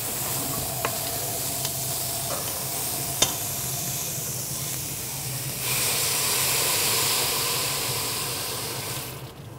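Onions and chopped garlic frying in a saucepan, a steady close sizzle and hiss with a few light clicks of stirring, swelling louder in the second half.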